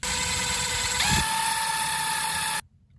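A small power drill fitted with its smallest bit drives tiny dashboard screws, a steady high whine running close and loud for a few seconds, briefly bogging mid-way, then cutting off abruptly.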